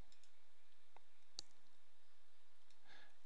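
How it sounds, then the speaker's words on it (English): A computer mouse gives a few soft, isolated clicks while copying data in an accounting program, with one sharper click standing out in otherwise near-silent surroundings. "Then I'll right click in this area and choose copy"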